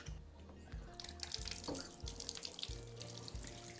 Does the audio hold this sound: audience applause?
no